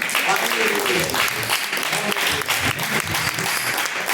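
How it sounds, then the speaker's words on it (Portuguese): A congregation at a live evangelical church service gives loud, sustained applause, with voices murmuring and speaking underneath the steady clapping. "Receba o servo de Deus com as palmas bem fortes"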